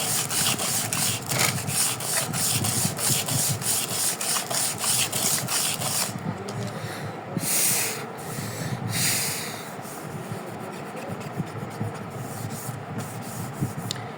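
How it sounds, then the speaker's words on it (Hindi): A surface is rubbed to strip off old polish during restoration of a 1989 Toyota Crown: continuous, close, rasping scrubbing strokes in a fast steady rhythm that later turn more uneven and intermittent. "जो पॉलिश सरफेस है ना वो साफ हो जाए।"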